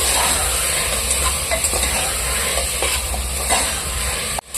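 Mutton stir-fried with green masala paste over a high flame, a steady loud sizzle with scraping stir strokes throughout, briefly cut off near the end.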